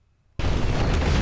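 In Top Gun: Maverick, a missile strikes an airbase and the explosion erupts abruptly out of near silence into a loud, sustained roaring blast.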